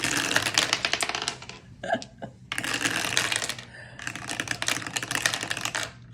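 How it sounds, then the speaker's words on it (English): A handful of dice clatter and rattle together across a tabletop in a tabletop game session, three bursts of rapid clicking separated by short pauses. "rolling all of these dice together"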